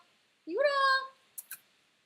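A house cat gives a single clear, rising-then-falling meow close by, followed by a couple of soft clicks in an otherwise quiet room.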